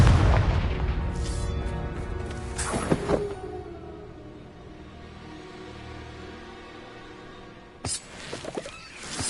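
A Confringo fire spell explodes in a Hogwarts wizarding video game: a loud burst with a booming blast near the start, a long rumbling tail, then another sharp blast near the end.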